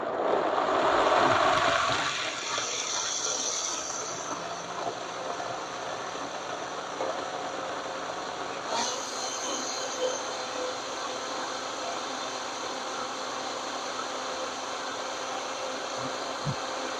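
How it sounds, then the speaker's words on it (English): A Vitamix blender runs loud and steady, blending thick black bean brownie batter into a creamy mix, with a continuous motor drone and a brief jump in pitch partway through, alone without talk. "The blender I'm using is a Vitamix"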